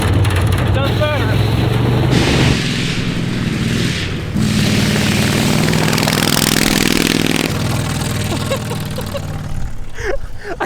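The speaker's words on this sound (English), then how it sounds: "I can't believe that's like a largely unmodified zero-turn lawnmower engine, and it rips in a car." A largely unmodified zero-turn lawnmower V-twin engine swapped into a Volkswagen Beetle runs loudly and close, revving up and settling in uneven surges across the whole stretch.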